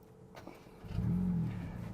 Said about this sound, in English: So as before, it's got a nice sporty exhaust note.